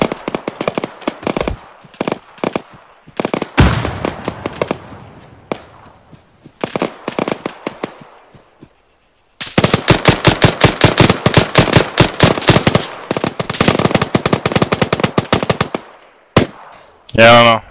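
A rifle fires in the ArmA 3 war game in rapid bursts and single shots, some sharp and close and others more distant, at varying volume.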